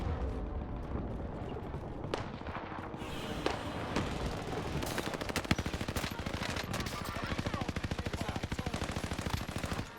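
Sustained automatic gunfire in the battle royale shooter Call of Duty Warzone, a fast, even stream of close, loud shots running through most of the stretch after a few earlier bangs.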